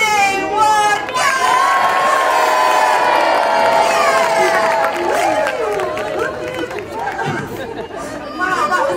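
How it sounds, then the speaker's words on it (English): At a safari park sea lion show, a big crowd cheers loudly, with many children shrieking and shouting as the sea lion jumps from a tower. The din stays dense and steady throughout. "Now when he gets to the end, we're going to give him a cheer."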